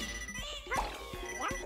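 A dog barks a few short yips in the video game Yoshi's New Island, under game music and background chatter.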